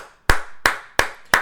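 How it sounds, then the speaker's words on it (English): Four sharp hand claps in a slow, even rhythm, close and loud, with quiet gaps between them and no talking. "give this nigga Lex a hand clap."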